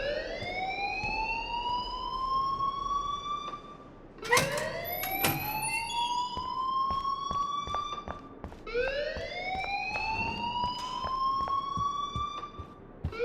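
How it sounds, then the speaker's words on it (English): A wailing alarm repeats in the game Life Is Strange, three rising sweeps about four seconds apart, loud and steady with no talk over it. "please turn off that alarm since that's your job"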